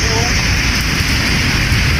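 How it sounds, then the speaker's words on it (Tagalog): Loud, dense typhoon rain pouring down in a constant roaring hiss, heavy and close, with no breaks. "Ayan ang lakas-lakas ng ulan ngayon mga kanelman."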